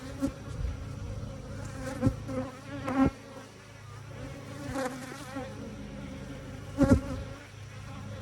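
Honeybees buzz steadily at an open hive during a frame check, a dense insect hum with occasional louder passes of individual bees close by.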